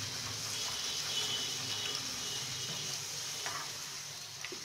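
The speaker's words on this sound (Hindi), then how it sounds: "उसके बाद पूड़ियों को उठाएंगे एक एक करके, थोड़ा सा इसे प्रेस करते हुए फ्राई करेंगे" Puris pressed down one at a time while deep-frying in oil give off a steady, close sizzle and bubbling that runs unbroken throughout, with a few faint scraping touches.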